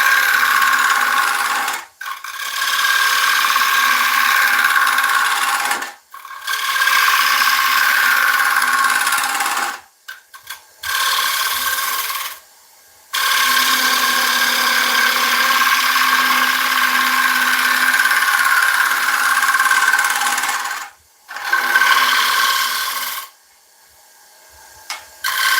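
A bowl gouge cuts a dense hardwood bowl spinning on a lathe, producing a steady, loud scraping whir in long passes broken by several brief pauses as the tool is lifted away, with no talking.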